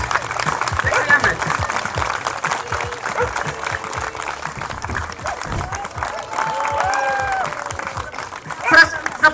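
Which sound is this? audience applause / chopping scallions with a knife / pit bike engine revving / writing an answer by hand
audience applause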